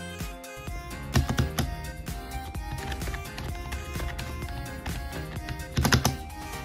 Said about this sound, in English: the shift key is pretty loud when double pressing it for things like tactical sprint in Warzone and Battlefield